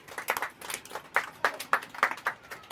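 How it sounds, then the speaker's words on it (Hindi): Classroom of students clapping for classmates, a short scattered burst of hand claps with uneven rhythm, moderately close and fairly quiet, with no talk over it. "चलिए इन लोगों के लिए ताली लगा दीजिए"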